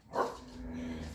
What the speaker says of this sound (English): When he's playing, it's a really high-pitched bark.